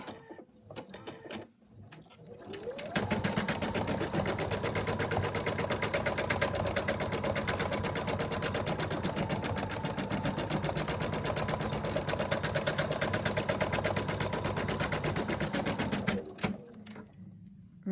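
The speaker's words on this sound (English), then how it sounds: "now it's going to do the placement line for the little badge in the middle" An embroidery machine stitching a placement line for an in-the-hoop zip top bag, starting after a few soft clicks and then running as a fast, steady, loud mechanical rattle for about thirteen seconds before stopping.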